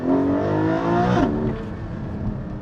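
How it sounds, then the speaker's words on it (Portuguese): Porsche 718 Cayman GT4 engine revving hard with the exhaust open, heard from inside the cabin: a loud rising wail that climbs, then drops off as the revs fall away into a lower idle-like drone. "E eu sinto o ronco muito mais dentro da cabine aqui, ó."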